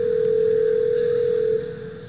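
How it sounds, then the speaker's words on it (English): A steady telephone ringback tone sounds as a digital assistant places a call to a hair salon, one sustained clear tone for about a second and a half before it fades out. "you will hear a digital assistant making a phone call to a hair salon."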